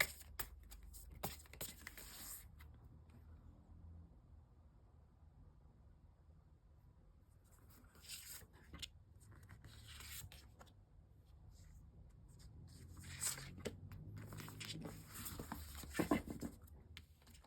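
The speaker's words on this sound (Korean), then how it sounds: "그럼 카드 먼저 섞을게요." Tarot cards are shuffled by hand in soft, close bursts of papery riffling and patting, with quiet pauses between the handfuls.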